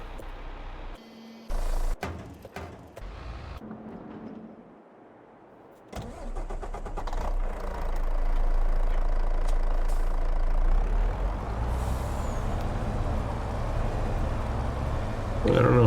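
A truck engine in a farming video game cranks over and starts, then settles into a steady loud idle and rumble for several seconds, with a voice talking over it.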